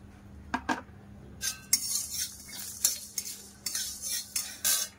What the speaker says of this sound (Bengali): এইবারে দেবো ধনে। ধনেটা আগে দিচ্ছি, যেন না ভাজতে একটু ধনেটা সময় লাগে।